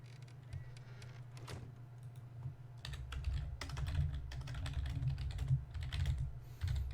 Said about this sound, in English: If you hear the clacking of my keyboard